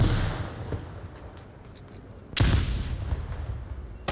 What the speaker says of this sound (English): Toss my flash over there.